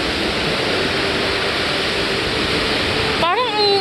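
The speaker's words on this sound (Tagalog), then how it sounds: "ang lakas-lakas ng alon" Strong rushing water roars steadily at a jjimjilbang spa, a loud, unbroken wash of noise that cuts off near the end as voices break in.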